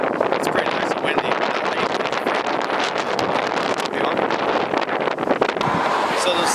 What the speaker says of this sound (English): It's pretty nice and windy.